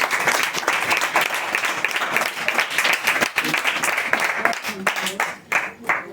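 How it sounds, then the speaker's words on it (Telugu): Steady, dense clapping from a family gathering at a Christian prayer and cake celebration, many hands close by and sustained for several seconds before thinning out near the end, with some voices mixed in. "అందరూ గట్టిగా చప్పట్లు కొడతామా?"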